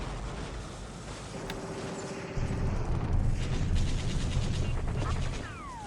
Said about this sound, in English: Another bombardment up here.